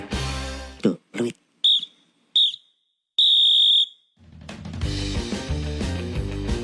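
Several short, sharp referee whistle blasts at a football penalty shootout, then one longer shrill blast, before music swells up.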